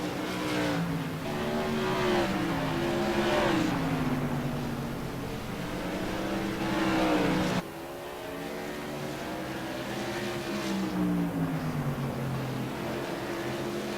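Modified race cars at South Boston Speedway, engines rising and falling in pitch as they lap the oval, a steady loud roar throughout with a sharp shift midway as cars pass.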